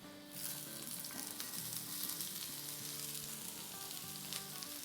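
Onion dropped into oil in a very hot cast iron pan, bursting into a loud, close, continuous sizzle that holds steady for several seconds with no talking.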